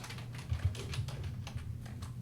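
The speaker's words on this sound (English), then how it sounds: "Oh, and Julia, have fun typing all day." Fast typing on a computer keyboard, a quiet, steady patter of soft clicks with a few firmer keystrokes, alone with no talk.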